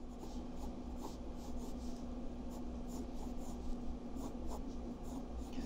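A pencil sketching faces on paper gives a close, continuous scratchy drawing sound with short strokes over a steady low hum, with no one talking.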